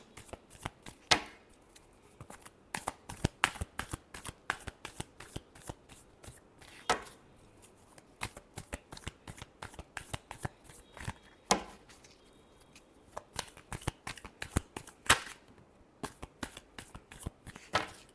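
A deck of tarot cards is shuffled by hand in a steady run of quick, crisp riffling taps. The cards are close and clear, with no talking.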